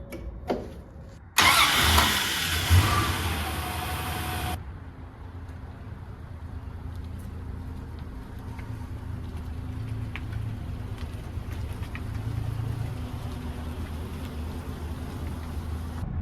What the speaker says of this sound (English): the car runs pretty good now